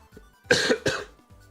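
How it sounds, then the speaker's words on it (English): A person coughs twice in quick succession, close and fairly loud, with quiet background in between. "I know I'm coughing a lot."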